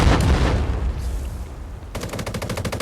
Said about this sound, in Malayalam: ആ വെടി വരുന്നുണ്ട്.